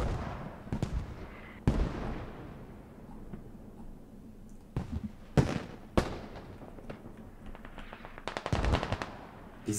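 Video game combat with a grenade blast among bursts of automatic gunfire and explosions, loud sharp impacts scattered irregularly with short rattling volleys, no speech.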